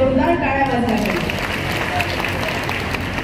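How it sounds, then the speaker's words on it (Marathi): An audience at a political gathering applauds in a steady, dense wash of clapping, with voices audible over it. "जोरदार टाळ्या वाजल्या पाहिजे"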